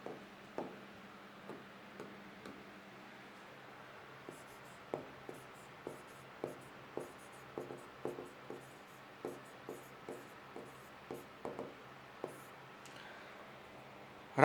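Chalk or a marker writing on a board during a physics class, a light run of tapping and scratching strokes at an uneven pace, faint and steady with no speech over it.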